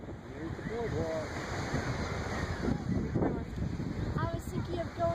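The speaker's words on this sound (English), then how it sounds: "And this is the beach." Ocean waves wash onto a beach near a boardwalk, a continuous surf roar with wind buffeting the microphone while people talk over it.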